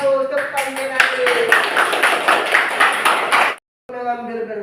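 A classroom of pupils claps together in a quick, rhythmic burst of synchronized hand claps lasting a few seconds, near and fairly loud, then stops abruptly; a teacher's voice is heard briefly after.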